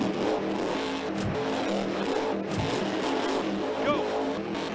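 The police monster truck in the Monster Jam video game revs its engine, a steady, rough motor roar with brief surges and clanks, heard at a moderate level throughout.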